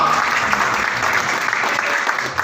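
Conference audience gives standing applause to welcome a speaker, loud, dense clapping that carries steadily throughout.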